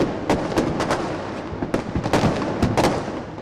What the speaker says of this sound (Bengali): মুহুর্মুহ আতশবাজি আর পটকার শব্দ বার্তা দিয়েছে পুরাতন বিদায়ের।